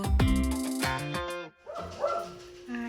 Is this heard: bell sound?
no